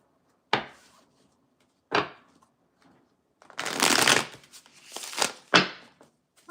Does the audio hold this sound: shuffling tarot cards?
yes